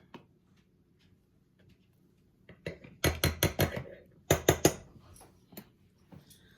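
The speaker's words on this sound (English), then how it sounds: "All I do is mix everything in the jar." Elbow macaroni, cornstarch and dry seasonings shaken in a jar for a homemade hamburger helper mix, a quiet start giving way to a burst of sharp rattling clatters, then a few scattered clinks trailing off.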